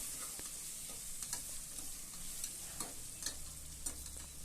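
A large tomato frying in a pan for avarekalu and methi pulao, with a steady soft sizzle broken by scattered clicks and stirring taps, close and moderately quiet.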